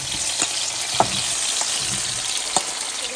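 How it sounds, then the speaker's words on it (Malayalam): Chopped tomatoes sizzle loudly and steadily in hot sesame oil in a pan for homemade tomato pickle, with a few sharp clicks of a spoon stirring. "ഇനി ഇതിലേക്ക് നമുക്ക് തക്കാളി ഇടാം"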